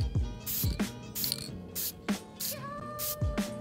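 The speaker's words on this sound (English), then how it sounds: "how you do light coats is what I do is I just spray while going down like this" Short hissing bursts from a spray can applying light coats of purple paint to a scooter deck, repeated several times with clicks and rattles between them, close and fairly quiet.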